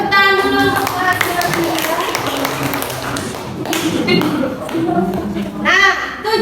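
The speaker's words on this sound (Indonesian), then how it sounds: "Oke, tepuk tangan dulu untuk" A school class claps hands for a ninth-grade traditional dance lesson, a burst of many hands under children's chatter and voices.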